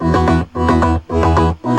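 Synth chords pulse in a tight rhythm that locks to the bass line, with four strong, loud hits that swell and cut off sharply, as if ducked by heavy sidechain compression.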